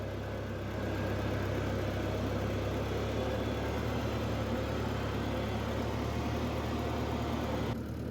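The engine of a 1950 Ford 8N tractor runs steadily with a low, even rumble and a constant mechanical drone that stays close and unchanging, with no talk.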